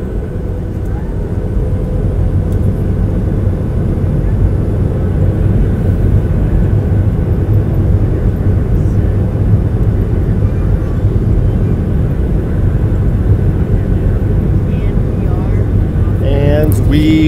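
Inside a passenger airplane accelerating down the runway, a loud, steady engine and rumbling roar fills the cabin for the whole stretch, with brief voices near the end.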